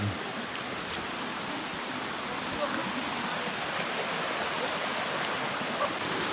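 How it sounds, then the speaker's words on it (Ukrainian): Steady broadband rushing of falling water, like a waterfall heard close by from below, a constant hiss with no breaks, in the Carpathian mountains. "тепер ми підійшли до самого водоспаду знизу"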